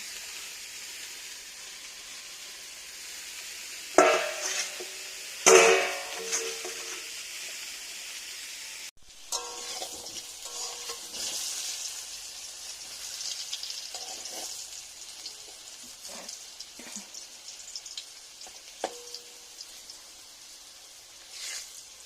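Potatoes for chicken curry frying in a pan, with a soft ongoing sizzle, two sharp clattering knocks early on and intermittent stirring and light clinks throughout, fairly quiet and with no voices.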